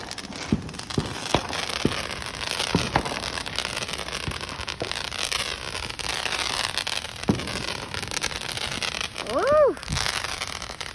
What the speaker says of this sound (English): Neighborhood fireworks are good in my neighborhood.